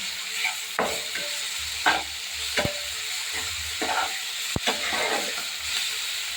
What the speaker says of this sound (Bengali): এক চামচ আদা রসুন বাটা স্বাদ মতো লবণ সুন্দর করে মশলাটা কষিয়ে নেবো